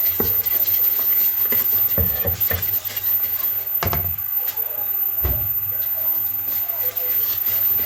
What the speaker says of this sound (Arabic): هقلب المكونات حلو قوي كده، وهنزل عليهم بالخليط السائل